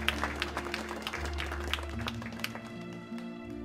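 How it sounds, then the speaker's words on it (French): An audience applauds medal recipients at a departmental ceremony, soft scattered clapping heard faintly beneath a sustained musical tone and low hum. "on les applaudit bien fort"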